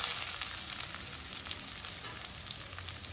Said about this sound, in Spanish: La sartén con aceite caliente, ahí va la cebolla.